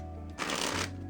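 A deck of playing cards is shuffled once, a quick crisp riffle of about half a second heard close, with a faint hum before and after.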